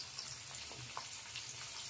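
Cauliflower pieces, already lightly browned, frying in oil in a home kitchen, giving a soft, even sizzle with faint bubbling, quiet and close, with no voices over it.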